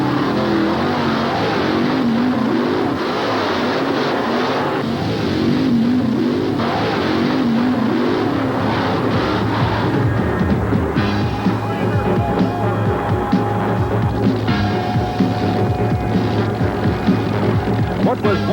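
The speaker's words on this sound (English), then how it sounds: "Get ready for the thrilling spectacle of truck and tractor pulling." Powerful truck and tractor pulling engines at a 1988 TNT Memphis motorsport event roar and rev continuously and loudly throughout, forming a dense, throbbing mechanical drone with no break.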